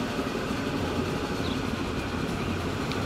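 A heavy electric freight train in the railway simulation game Transport Fever rolls by, a dense, steady rumbling roar with no distinct clicks or horn, loud and unbroken throughout.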